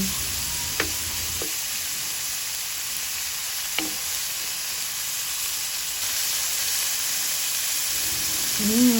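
Eggs and tomatoes sizzle steadily in a pan as they are sautéed and stirred, a constant bright hiss with a few soft utensil clicks, close and moderately loud, with no talking.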